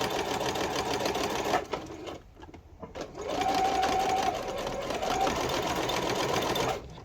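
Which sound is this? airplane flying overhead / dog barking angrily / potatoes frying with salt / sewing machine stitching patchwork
sewing machine stitching patchwork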